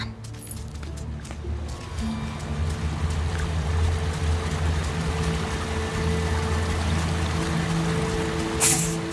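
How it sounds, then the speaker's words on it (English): River and waterfall in the Lord of the Rings: Gollum video game keep up a steady, broad rushing flow with a low rumble, continuous and fairly loud, with no talk over it. "To the waterfall. Can you hear it? We hear the river."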